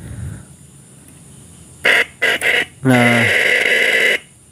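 A weak horn on an old Yamaha RX King motorcycle with a nearly dead battery honks, first in three short thin bleats and then one longer reedy blast, with a brief spoken word just before.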